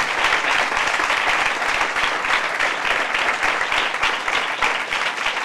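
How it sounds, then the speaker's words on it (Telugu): Loud, steady applause from a church congregation, sustained dense clapping throughout with no pauses, led in praise during a Telugu Christian sermon. "గట్టి చప్పట్లు కూడా దేవుని నామమున మహిమపరచండి"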